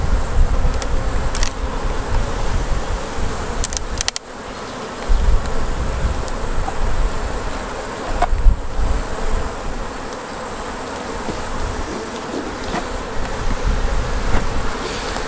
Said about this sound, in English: The bees are moving out of the way because I've just smoked them